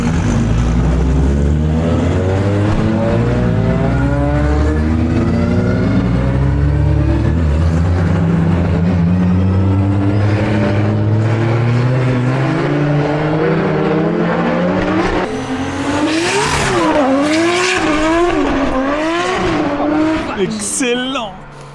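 Several Toyo-sponsored drift cars run a demo on the straight at an Okayama circuit, engines roaring and revving loudly with wavering pitch sweeps and tire squeal, continuous and close throughout.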